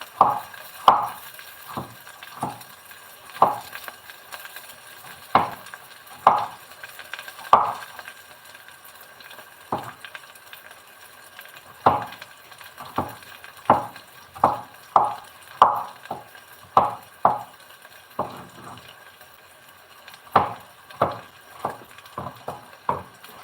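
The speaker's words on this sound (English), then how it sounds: "I am just chopping garlic into very thin pieces, thin slices" Garlic is sliced very thin with a knife on a cutting board in a home kitchen, a steady run of sharp, close, distinct chops in uneven bursts, with no voices.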